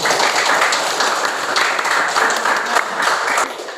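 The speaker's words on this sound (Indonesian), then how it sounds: "Beri tepuk tangan." A classroom of students claps in unison, a fast, even run of close, loud hand claps with slight rhythmic pulses throughout.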